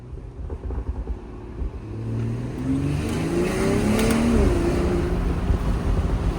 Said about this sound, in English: The exhaust looks like it's from Valvetronic. I mean, it sounds so freaking good.